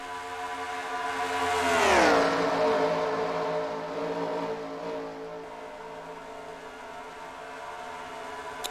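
Racing video game engine in an oval stock-car race at Las Vegas, with a loud pass-by whose pitch sweeps down sharply before settling into a steady, fainter drone.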